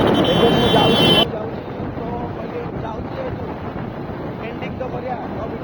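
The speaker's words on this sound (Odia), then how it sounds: "ପବନ ଜୋରେ ବହୁଛି ଯେ ସେ ଭଏସ୍ ଶୁଭୁନଥିଲା" Strong wind buffeting a microphone outdoors during a motorbike ride, heard as a loud, steady rumbling roar that drops abruptly to a lower, continuous gusting hiss.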